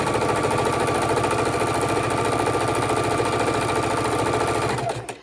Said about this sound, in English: It's really just great using the Singer heavy duty sewing machine.